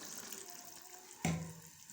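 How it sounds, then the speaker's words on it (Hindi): Half a glass of water poured into a pot of achar gosht, a soft splash and brief trickle that starts abruptly midway and fades back into quiet kitchen hiss. "थोड़ा सा इसमें आधा गिलास पानी डालूंगी"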